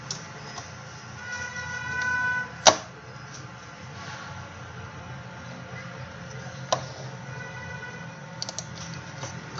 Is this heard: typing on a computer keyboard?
yes